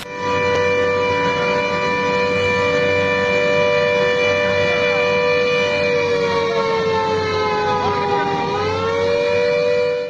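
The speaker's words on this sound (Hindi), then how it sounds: "सुबह 4 बजे चाय बागान और चाय की फैक्ट्रियों में सायरन बजता है" A tea garden factory's morning siren wails steadily and loud for about ten seconds, a sustained multi-tone blast that dips slightly in pitch near the end, with no talk over it.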